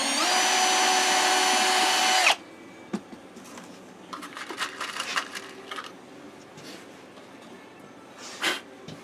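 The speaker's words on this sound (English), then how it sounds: "we'll just drill the first one" A loud power drill whines steadily for a couple of seconds, drilling into a wooden pattern, then stops, followed by scattered clicks, rattles and light handling noises nearby.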